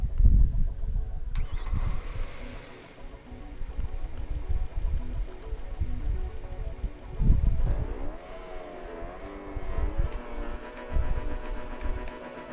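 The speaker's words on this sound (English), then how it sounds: "Personally, I do like the engine audio for this car." A car engine in the Rocket League video game hums and revs steadily for about twelve seconds, rising in pitch with a noticeable surge near the middle, loud and continuous with game music underneath.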